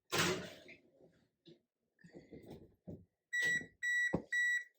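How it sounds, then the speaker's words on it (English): An oven signals that preheating is done with a few short electronic beeps, clear and fairly near in a quiet kitchen, coming after some soft handling noises. "There's my preheat."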